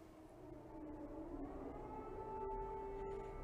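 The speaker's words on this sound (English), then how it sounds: "air raid sirens are going off in Lviv." Air raid sirens wailing across the city of Lviv in wartime, a distant, sustained rising and falling tone that swells slightly over the clip with no talking.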